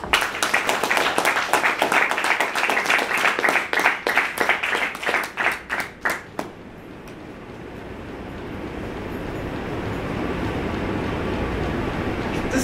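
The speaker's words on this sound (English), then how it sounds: "with a thundering round of applause, let us welcome Mr. Ashok Handigol." An audience at a Mecon Communication Club meeting in Bengaluru claps to welcome a speaker: dense, rhythmic clapping for about six seconds that ends abruptly, leaving a steady background hiss.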